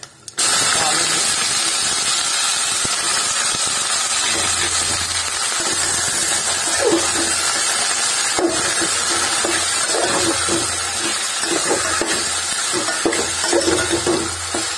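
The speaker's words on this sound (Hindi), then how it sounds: "प्याज को हमने डालना स्टार्ट कर दिया है" Onions for a village-style desi chicken curry drop into hot oil and sizzle steadily, a continuous broadband hiss with stirring clatter, close and fairly loud throughout.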